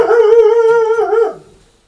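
A dog gives one loud, close, drawn-out howl with a wavering pitch that fades out near the end.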